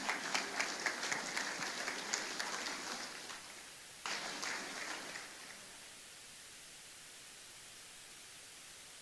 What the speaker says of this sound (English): can we stand up and give the celebrant a round of applause?